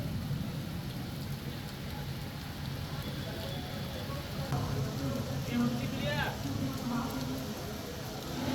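Rain falls steadily in Lucknow as a dense, even wash of patter that lasts throughout, with faint street noise and passing traffic mixed underneath.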